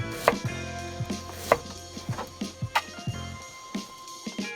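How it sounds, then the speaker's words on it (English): A knife thinly slices cabbage for slaw on a cutting board outdoors in the forest, giving a quick, irregular run of crisp chopping taps close up. "I'm gonna do some extremely, as thin as I can get it, just like some very thinly sliced cabbage"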